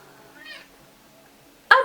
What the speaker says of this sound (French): C'est Billy, mon petit chaton.